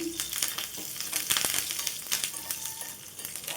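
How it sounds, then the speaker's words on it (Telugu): Curry leaves and garlic fry in hot oil as a tempering for chutney, a close, bright sizzle with crackles and stirring scrapes over a few seconds. "మొత్తం కూడా మంచిగా ఫ్రై చేసేసుకోవాలి"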